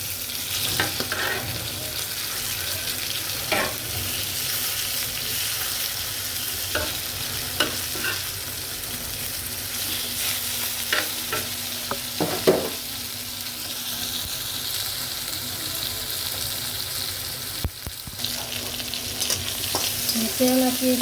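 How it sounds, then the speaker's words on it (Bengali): Rohu fish pieces frying in oil for a Bengali curry. A continuous sizzle and crackle fills the whole stretch, with occasional sharper pops and a few clattering stirs, no voices. "মাছটি ভাজা হয়ে গেল।"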